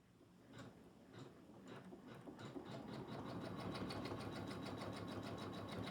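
A sewing machine running on slow speed stitches fabric for a teddy bear, a steady mechanical whirr with rhythmic ticking pulses that grows slightly louder and denser, heard alone without talk.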